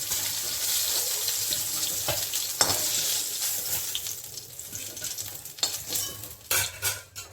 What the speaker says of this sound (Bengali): এই যে বেগুনটা আবার ভাজা ভাজা হয়ে গেছে, এখন আমি বেগুনটাকে নামিয়ে দিচ্ছি।